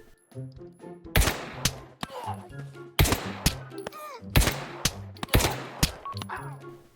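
Luger pistol shots in the Pavlov VR game, a series of sharp loud cracks spaced roughly a second apart, about five or six shots, alone with faint game sounds between them.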